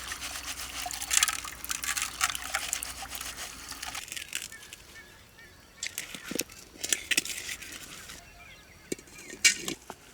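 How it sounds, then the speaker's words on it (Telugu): Urad dal (black gram) being washed by hand in water in a kitchen: soft, irregular splashing and swishing, fairly faint and close, in uneven bursts. "ఇక ఈ మినపప్పు బాగా కడుక్కుందాం పుట్టు పోయే వరకు"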